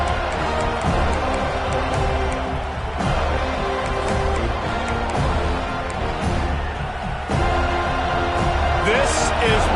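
Loud, steady roar of a football stadium crowd at the FLA vs FSU game, a continuous wash of cheering with swells around the kickoff and start of the drive, with commentary voices running underneath.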